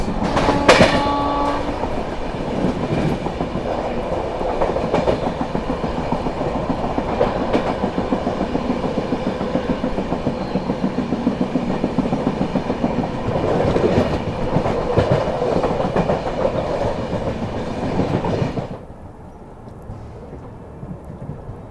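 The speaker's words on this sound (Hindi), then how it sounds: "ट्रेन जो है अपनी कानपुर सेंट्रल पहुंच रही है" An express train runs into Kanpur Central with a loud, steady rumble and rhythmic clickety-clack of wheels over rail joints. The roar cuts off sharply near the end, leaving a quieter background.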